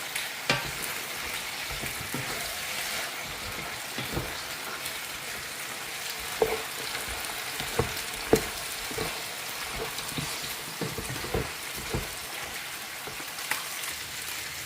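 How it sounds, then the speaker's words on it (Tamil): Curry stir-fried with couscous powder in a Paris food-service kitchen: a dense, even frying hiss with irregular spatula scrapes and light taps throughout, close and with no voices. "இப்போ இதில் இந்த குஸ்குஸ் பவுட்ரு கொஞ்சம் போட்டுக்கிறோம்"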